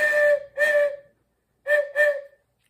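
A Dr. Tweeple whistle toy sounds close by in two pairs of short, bright hooting tones separated by a brief silence, with no talk.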